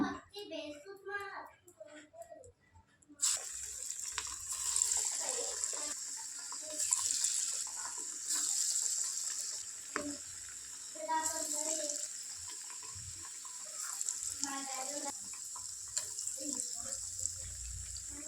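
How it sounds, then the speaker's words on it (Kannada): Chana dal masala vadas deep fry in hot oil with a steady bubbling hiss that starts a few seconds in and continues under a talking voice. "ಅದೇ ರೀತಿ ಫುಲ್ಲು ಗೋಲ್ಡನ್ ಕಲರ್ ಬರೋವರೆಗೂ ಇವುಗಳನ್ನೂ ಕೂಡ ಚೆನ್ನಾಗಿ ಫ್ರೈ ಮಾಡ್ಕೊಂಡ್ಬಿಡೋಣ"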